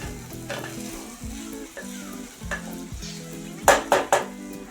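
Matki (moth bean sprouts) stir-fry in a pan with onion and tomato, a steady sizzle broken by repeated scraping strokes and a few sharp clanks of the spoon against the pan near the end.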